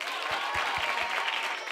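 A crowd at Charlie Smith High School, a Jamaican school, claps steadily at moderate volume, with a few low thumps near the start.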